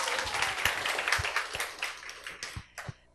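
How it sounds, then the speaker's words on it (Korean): An audience applauds to welcome a guest at a televised talk event, a burst of close clapping that thins into scattered individual claps and fades within a few seconds. "우리 박경희님을 박수로 맞이해 주세요."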